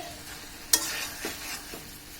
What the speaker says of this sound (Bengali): এখন ভালো করে একটু নেড়ে দিচ্ছি